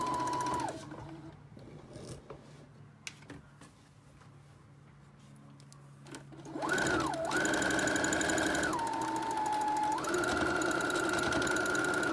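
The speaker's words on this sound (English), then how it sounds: "I'm just going to stitch straight down there." A sewing machine stitches a straight seam down knit fabric for a child's cape, starting after a quiet stretch and then running loud and steady with a whirring motor that rises and falls in pitch as speed changes.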